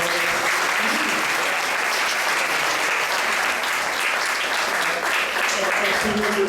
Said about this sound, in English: let's give a nice round of applause for everybody